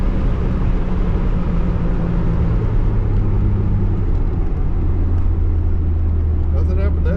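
Engine of an old $250 truck runs with a deep, steady low rumble that shifts pitch as gears change, loud and close throughout, with someone talking over it.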